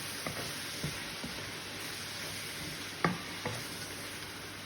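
Dried fish (tuyo) sizzles steadily in a frying pan while a utensil stirs it, with a few soft scraping taps scattered through the continuous frying hiss.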